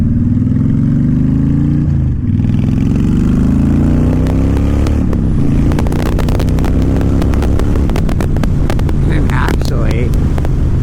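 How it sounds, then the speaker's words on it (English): Honda Fury V-twin factory chopper motorcycle revving up through the gears while riding, engine tone climbing in steady steps, loud and close beneath heavy wind buffeting, with a rider talking over it. "Revving it up through the gears."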